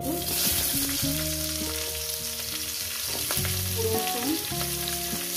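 Chopped onion sizzles and crackles steadily in a hot pan during an eggplant and tomato recipe. The hiss stays close and continuous, with melodic background music playing underneath.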